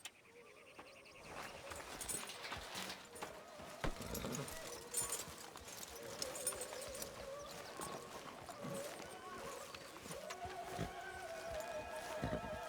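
Steady clip-clop of horse hooves trotting along in the video game Red Dead Redemption 2, with faint voices and soft background music.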